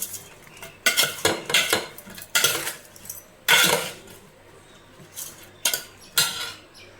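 Eggplant in a pot being stirred with a metal spoon, giving bursts of scraping and clinking against the pot, close and moderately loud, with quiet pauses between strokes and no talk.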